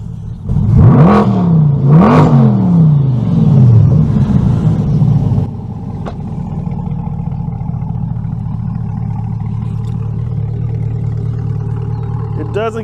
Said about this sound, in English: That is that boiler attack exhaust system.